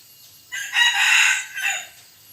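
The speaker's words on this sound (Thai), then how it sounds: "เราจะให้ขันให้ชม" A small fawn crossbred fighting cockerel, three or four months old and under a kilo, crows once loudly and close by on a hot sunny day, a single drawn-out call of about a second with a brief tail.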